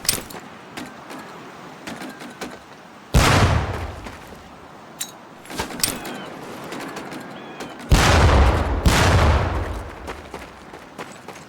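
Two training grenades in Medal of Honor Pacific Assault burst with loud, booming blasts that rumble away over a couple of seconds, separated by scattered smaller clicks and thuds from the game scene.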